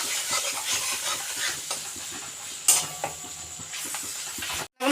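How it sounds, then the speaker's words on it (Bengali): Turmeric, cumin, coriander and chilli powder frying in a pan give a soft, steady sizzle with scraping stirs and a brief clink of a utensil, ending in a short pause. "মশলাটাকে একটু ভেজে নেবো।"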